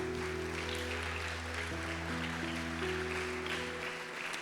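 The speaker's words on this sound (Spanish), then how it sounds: "¿Quién da un aplauso a nuestro Dios?" Steady clapping from a church congregation, a broad wash of applause with music or a sustained tone underneath, continuing for several seconds.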